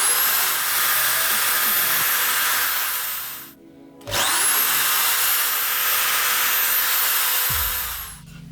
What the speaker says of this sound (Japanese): じゃあこの辺りに穴を開けてボルトを通すようにします。